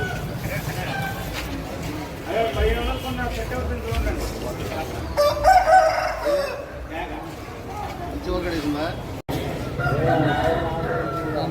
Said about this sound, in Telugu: ఇదిగోండి ఈ రెండు పుంజులు